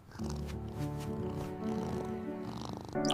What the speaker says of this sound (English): You are a funny little cat